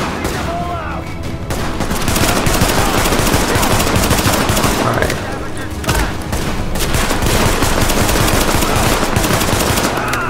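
Heavy automatic gunfire from Tom Clancy's The Division, loud sustained bursts and rapid shots almost nonstop, close up, with brief lulls and a voice occasionally over the shooting.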